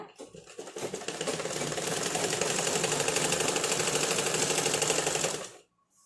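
A sewing machine stitches a lungi hem in a fast, even rapid-fire chatter. It is close and steady for about five seconds, then stops abruptly with no talking.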